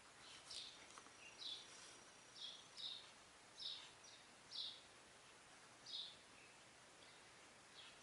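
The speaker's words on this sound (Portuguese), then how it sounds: "Tô só escutando passarinhos cantando aqui do lado da minha janela." Birds sing just outside a window, giving faint, brief chirps that repeat roughly once a second against a quiet, hissy indoor background.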